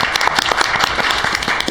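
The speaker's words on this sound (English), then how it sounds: "So please give her a round of applause." An audience claps loudly for a newly certified city municipal clerk, a dense, continuous patter of many hands close by with no talk over it.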